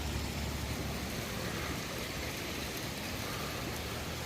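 Smiths Creek flowing strongly, a faint steady broadband rush of moving water with no pauses.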